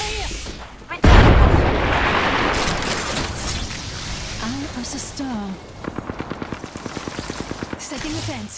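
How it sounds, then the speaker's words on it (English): A grenade blast in the battle royale shooter Apex Legends on the Olympus map: a sudden loud explosion with a rumbling tail, followed by rapid gunfire bursts, and a voice talking over the action. "Look out, grenade."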